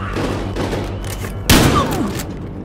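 Gunfire in the video game Battlefield Hardline, a quick burst of shots with one sharp loud crack midway, under ongoing game ambience.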